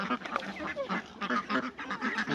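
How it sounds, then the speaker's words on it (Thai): Ducks quack repeatedly at close range, a busy overlapping chatter of raspy calls filling the whole stretch without pause. "ระวังเป็ดแหบเด้อ"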